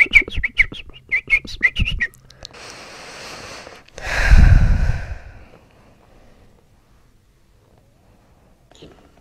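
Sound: person imitating a bird call

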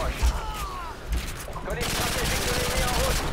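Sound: gunfire in video game Call of Duty Modern Warfare 2

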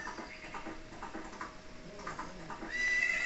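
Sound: horse neighing and galloping riderless, from Zelda video game

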